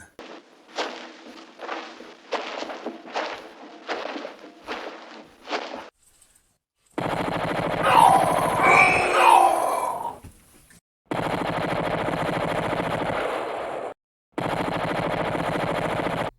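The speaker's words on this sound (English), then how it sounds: "Now I have a machine gun." Bursts of machine gun fire in the ZX Spectrum and Sinclair QL game Santa's Dilemma, short rattling volleys in quick repeated succession, then longer dense noisy bursts separated by gaps, with no talking.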